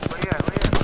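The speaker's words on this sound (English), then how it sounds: "Oh, he's shooting at me." Enemy gunfire in Apex Legends, a quick burst of evenly spaced automatic shots, loud and close, with a voice speaking over it.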